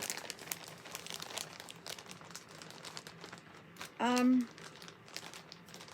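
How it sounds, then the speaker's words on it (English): A plastic bag around a yarn package crinkles and rustles close up in soft bursts, while someone talks quietly over it and a brief tonal squeak cuts in midway. "she's put it in a plastic bag"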